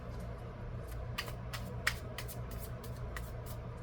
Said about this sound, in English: I pre-shuffle my cards, but I always shuffle again